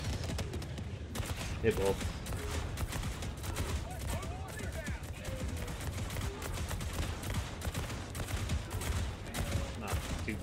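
The Exo-49 Emancipator mech in Helldivers 2 firing its guns in dense, sustained rapid bursts, with someone talking over the gunfire.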